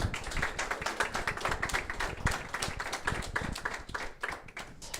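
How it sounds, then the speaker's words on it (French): A room full of people applauds steadily after a Recalbox presentation, dense overlapping claps continuing at an even level throughout. "On peut les applaudir, je pense,"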